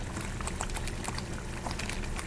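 A prawn and cashew curry bubbles steadily in a pan, a soft continuous simmer with faint popping bursts, close by and alone.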